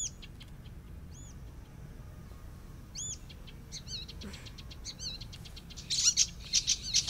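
Small birds chirp in a series of short, high tweets outdoors in the open sky, scattered calls with a brighter cluster near the end over a low background rumble.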